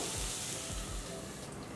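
Tomato and onion cooking in a pan over a low flame, giving a steady, even sizzle that runs throughout with a few soft low thumps.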